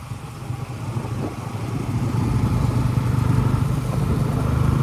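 A Honda Hornet 125 motorcycle riding in fifth gear at steady speed gives a continuous, close engine drone that builds slightly in loudness and holds steady, with no talking.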